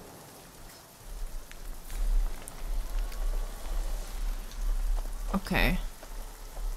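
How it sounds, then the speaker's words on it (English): Steady rain falling in the video game Fallout New Vegas, a constant hiss over a low rumble, with brief speech and a short rising effect near the end. "And it's raining too."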